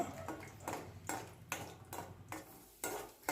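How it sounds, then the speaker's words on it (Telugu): Peanuts frying in two tablespoons of hot oil, a soft sizzle under repeated scraping strokes of a spoon stirring the pan every half second or so, close and quiet with no voices. "పల్లీలు వేగేదాకా కలుపుతూ ఉండాలి"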